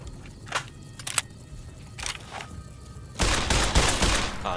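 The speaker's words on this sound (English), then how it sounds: "This shotgun is not doing anything." A shotgun fires in Fallout New Vegas: a few sharp, separate blasts come first, then a denser burst of overlapping gunfire and impacts closes the stretch.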